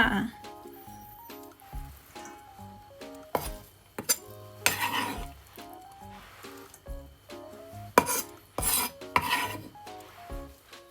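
A knife slices pork thinly on a cutting board for Thai crispy pork, with repeated sharp chopping taps at an uneven rhythm, close up, while someone talks and pans and utensils clatter.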